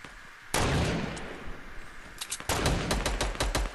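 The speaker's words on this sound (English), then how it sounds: "Got one with a sniper." A sniper rifle shot in an online shooter game rings out as a sudden loud blast, followed by a burst of sharp, rapid gunfire cracks.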